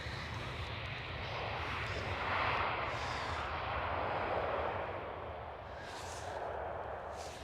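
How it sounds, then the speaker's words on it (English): A Lufthansa Airbus A320 lands at Schiphol Amsterdam, its jet engines making a steady broadband roar that swells and eases over several seconds, heard from a spotting position with no voices. "Here is a Lufthansa with an A320. Of course they are gonna pull off this landing."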